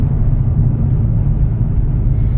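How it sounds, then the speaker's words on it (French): A Seat Ibiza 6L tuned to stage 3 accelerates hard, its engine giving a loud, continuous low roar that holds steady for a couple of seconds without speech. "c'est brutal l'accélération là-dessus"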